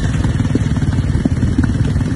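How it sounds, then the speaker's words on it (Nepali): A motorcycle engine idles steadily up close, a low continuous throb with faint clatter running through the whole stretch and no talk over it. "त्यो बाइक चाहिँ अफ गरिदिनु न"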